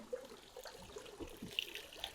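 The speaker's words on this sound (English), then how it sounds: "All the water is going to drain out of the air holes that are underneath the seat." Water trickling and dribbling out of the air holes under the seat of a Shayz in-pool lounger as it is tipped forward, a soft, close, uneven splashing with small drips and gurgles, no voices.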